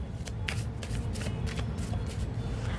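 Oracle cards shuffled by hand for an intuitive tarot reading, a run of quick papery riffles and slaps in an irregular rhythm, close and fairly loud, with no talk.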